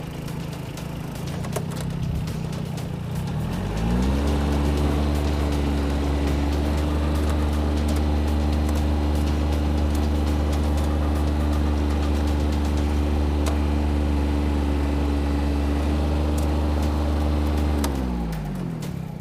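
A Japanese combine harvester engine starts up and settles into a loud, steady, deep droning run for about fourteen seconds, then drops away at the end.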